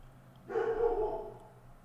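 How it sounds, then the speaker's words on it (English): A single dog bark sounds from across the room, fairly muted and a little drawn out, breaking into an otherwise quiet indoor space during a chess game. "Sorry, my dog is barking"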